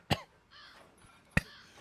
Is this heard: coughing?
yes